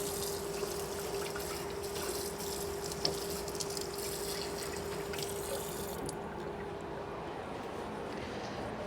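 Water runs steadily from a kitchen tap into a sink while a cooking pot is rinsed, a constant soft hiss and splash at low level that cuts to quieter flow near the end.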